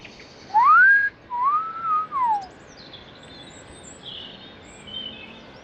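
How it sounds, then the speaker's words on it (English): Two clear whistled bird notes in St. Peter's Graveyard, Drayton Bassett, one rising and one arching downward, sound close and alone over faint background hiss. "I hear lots of birds whistling."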